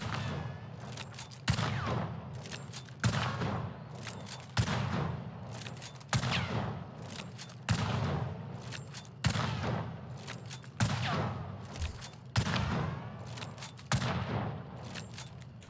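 A gun in the video game Hunt: Showdown fires repeatedly at an increased rate of fire, about ten loud sharp shots spaced evenly, each with a ringing tail before the next.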